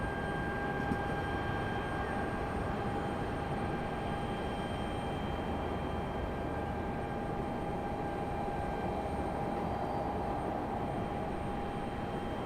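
A McDonnell Douglas MD-11 airliner landing at Raleigh-Durham International Airport, heard as a steady, moderately distant roar with a faint high whine sustained throughout, no voices.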